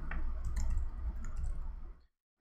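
A computer mouse clicks on a plus sign in accounting software, a faint click or two in a quiet room with light handling noise before the sound cuts to silence.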